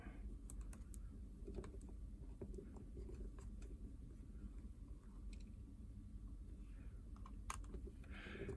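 Small screws are being removed from a faulty, water-damaged Nintendo 2DS console motherboard, giving faint, close, intermittent clicks and light scraping taps over a quiet hum.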